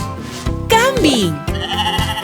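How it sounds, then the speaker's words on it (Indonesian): Goat bleating in a children's farm-animal song, a short wavering cry riding loud over bright backing music, with a brief spoken word nearby. "Kambing."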